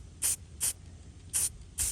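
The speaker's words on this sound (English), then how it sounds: "Make sure it's spraying good." Four short hissing bursts of spray paint laying a base coat on a Christmas candle diorama, close and crisp, in two quick pairs with brief quiet gaps between.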